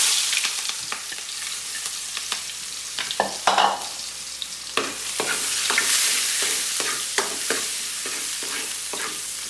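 Garlic and onion fry in hot oil for pork kaldereta, a constant close sizzle broken by repeated sharp scrapes and clacks of a spatula stirring the pan, with no talk.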